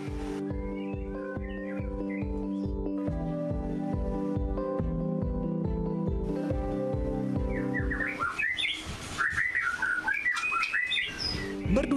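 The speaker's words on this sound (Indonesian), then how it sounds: "Merdunya kicauan burung murai batu ini" Several white-rumped shamas (murai batu) kept on a bird farm in Pangkal Pinang, Bangka sing bright, varied whistled phrases, close and clear, over a steady loud rhythmic musical backing throughout; the song grows denser and more overlapping toward the end.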